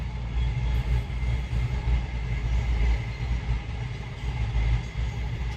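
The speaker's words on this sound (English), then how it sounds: "Trains are still going by." Trains rolling past near the New Forest, a continuous loud rumble with faint rhythmic rail clatter, no voices.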